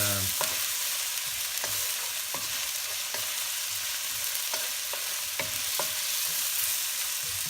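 Onion sautéing in a pan for pancit bihon guisado: a steady close sizzle of frying runs throughout, punctuated by a series of sharp clicks and scrapes from stirring.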